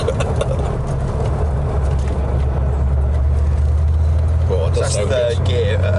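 A 1985 Porsche 928 V8 pulls from low revs in third gear while driving, its deep steady engine rumble building gradually under continuous cabin noise, with someone talking over it.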